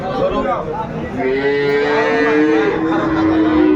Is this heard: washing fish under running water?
no